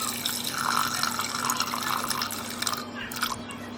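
Water runs steadily into a mixing bowl for bread dough, a close, continuous splashing pour lasting a few seconds with no talking.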